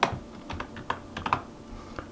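Computer keyboard keys tapped in a short burst of about a dozen close, crisp clicks with uneven rhythm, entering a weapon name.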